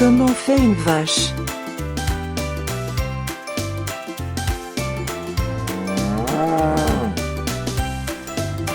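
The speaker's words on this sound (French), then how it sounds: "Comment fait une vache?" A cow mooing in a farm animal sound quiz for children, with a drawn-out moo rising over steady upbeat background music.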